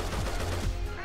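An AK rifle fires in a shooter video game, giving a loud, dense burst of rapid automatic gunfire that fills the whole brief moment.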